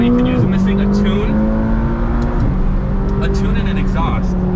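A McLaren sports car engine drones steadily up close as it accelerates, its pitch climbing and shifting through gear changes, with talking over the top throughout.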